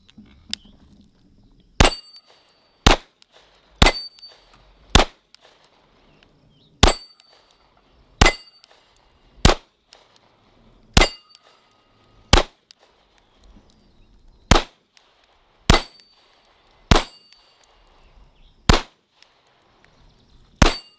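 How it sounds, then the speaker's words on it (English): A Canik TP9 DA pistol fires outdoors at steel targets, giving roughly fourteen sharp, separate shots with ringing metallic hits, spaced unevenly about a second apart over a quiet background. "we're going to go do some shooting with the TP9 DA"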